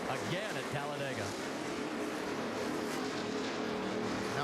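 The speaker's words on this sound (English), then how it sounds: "Who's going to win at Talladega as they come through the tri-oval, picking up speed, green flag flies, and we're racing again at Talladega" Stock cars roar through the tri-oval at Talladega, engines droning and rising in pitch as they pick up speed, a steady wash of race noise under a commentator's voice.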